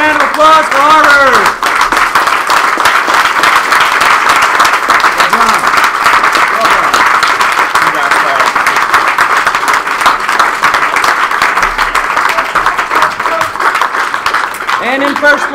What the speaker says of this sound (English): In second place, a nice big round of applause for Harvard.